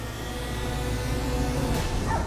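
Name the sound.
dogs barking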